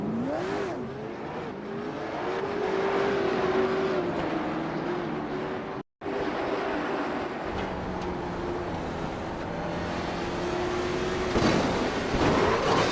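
Race car engines rev and drone through a crash-strewn video game late model race at Southern National, a continuous loud roar with rising and falling pitch, briefly cutting out once before resuming.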